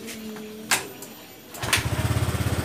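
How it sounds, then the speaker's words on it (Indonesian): Honda Vario 125 scooter with a weak battery being kick-started, a brief mechanical clunk followed by the small engine catching and settling into a rapid, steady putter close by. "lalu saya akan coba engkol di sini"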